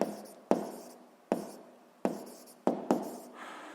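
Handwriting during a physics exercise makes a series of about six sharp strokes, each starting abruptly and fading, spaced roughly half a second to a second apart, close and quiet without speech.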